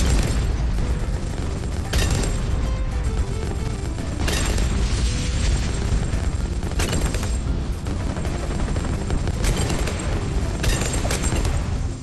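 Explosions and gunfire from the Bloons TD 6 tower defense game, a dense, loud, continuous barrage with repeated sharp booming bursts every couple of seconds, alone without talk.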